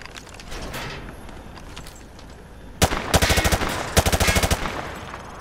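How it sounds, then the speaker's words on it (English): Automatic weapon fire at targets in Modern Warfare 2 Remastered: after a quiet stretch, loud sharp bursts of rapid shots ring out close, two separate rattling strings, each a quick run of evenly spaced cracks. "He sprayed bullets all over the damn place"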